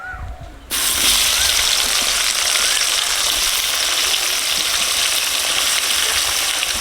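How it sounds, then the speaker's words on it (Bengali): Onion dropped into hot oil left from frying potatoes bursts into a loud sizzle after a brief quiet moment, then keeps hissing steadily and close up. "তেল গরম হয়ে গেছে, আলু ভাজার তেলেই পেঁয়াজ দিয়ে দিচ্ছি।"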